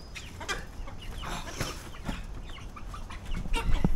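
Several chickens on a farm clucking and squawking in short, irregular bursts, close and moderately loud, with some rustling and flapping sounds around them.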